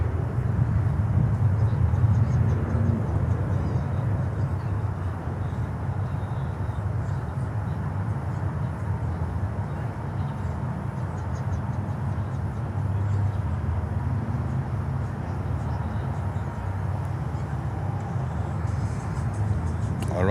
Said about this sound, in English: The first go around we see. Copa.